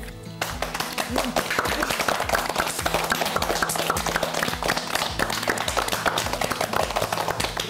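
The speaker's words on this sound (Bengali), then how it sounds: "সবার জন্য কি আরেকবার হাতে তালি দিব" A group claps together in a steady, even rhythm that carries on for several seconds, sounding fairly close.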